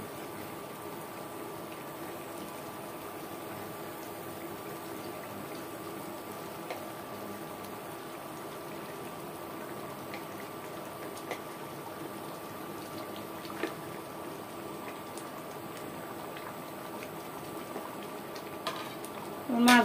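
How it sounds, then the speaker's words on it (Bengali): Rui fish curry broth coming to a boil in a pan, a steady low bubbling hiss that runs throughout with a few faint clicks and small knocks near the end. "কিছুক্ষণ পরে আমার ঝোলটার বলক চলে এসেছে"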